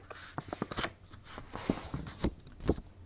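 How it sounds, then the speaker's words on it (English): Card stock is folded in half by hand in a paper crafting session, giving a series of close, crisp paper creases and taps, soft and uneven, with no voice. "Now, watch this. I'm going to fold it."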